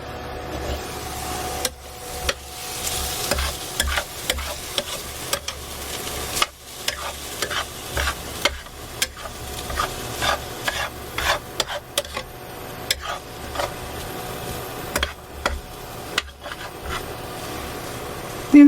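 Gardein Lambless Vindaloo is stirred in a hot pan, with repeated scraping strokes of a utensil over a soft, steady sizzle, close up and rhythmic with short pauses between strokes.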